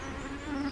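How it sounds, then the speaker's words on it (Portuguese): A mosquito's buzz drones steadily and close for a brief moment, an insect whine with no voices. "A criatura que mais mata pessoas todos os anos é esta: o mosquito."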